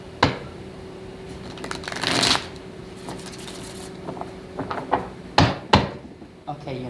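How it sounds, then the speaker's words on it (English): Tarot cards are shuffled up close in a quiet room, giving brief riffling bursts and scattered soft taps and thumps. "One more shuffle."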